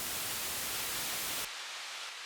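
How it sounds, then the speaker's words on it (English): A white noise synth patch in Ableton Live 11 gives a steady, loud, full-range hiss that abruptly loses its low end partway through, leaving a thinner, brighter wash. "switch this from a sine wave to white noise"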